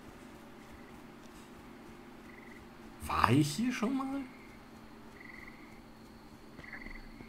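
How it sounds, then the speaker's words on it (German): A single croaking frog in the video game Miscreated, one clear warbling croak lasting about a second over quiet outdoor ambience, with someone speaking softly nearby. "Das ist ja cool mit den Fröschen."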